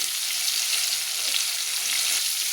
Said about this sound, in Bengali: দিয়ে আলুটাকে একটু লাল লাল করে, হালকা লাল লাল করে ভেজে নেব